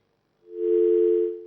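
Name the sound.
telephone tone after a call is hung up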